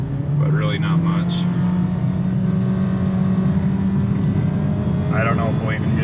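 A 2023 Honda HR-V accelerating hard from a standstill toward 60 mph, engine drone rising steadily and loud from inside the cabin, with someone talking briefly over it.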